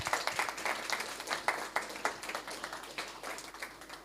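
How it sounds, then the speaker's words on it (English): An audience at a talk on Sikh history claps in quick, scattered bursts, fairly faint and distant, a short round of applause with no voices over it. "we owe him a round of applause"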